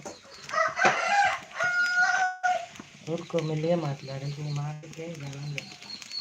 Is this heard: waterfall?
no